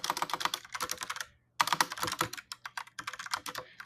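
Rapid close-up typing of a tweet on a computer keyboard, dense clicky keystrokes in quick bursts with one brief pause midway, no voices.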